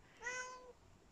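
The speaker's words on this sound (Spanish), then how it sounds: "Mi gatito me llama." A single short, faint meow from a pet cat indoors, clear and high-pitched, with no other sound around it.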